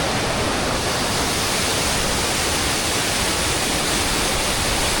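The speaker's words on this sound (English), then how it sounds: "now this is what I call a waterfall" A large waterfall roughly 10 to 20 meters high in the Scottish Highlands, heard close up as a loud, dense, unbroken roar of falling water with no other sounds.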